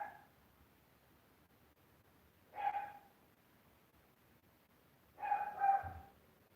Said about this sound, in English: I'm waiting for the big dog to start woofing